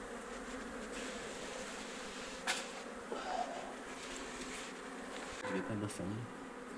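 A large honeybee swarm at a hive being lightly smoked gives a steady, faint buzzing drone throughout, with a few soft knocks and rustles near the end.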